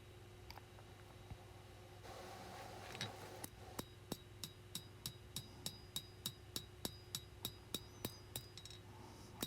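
A Bowie knife blade is hand-forged on an anvil with light, unhurried hammer blows to smooth out earlier marks; after a few scattered taps, a steady run of ringing metallic strikes comes at a regular pace, close by.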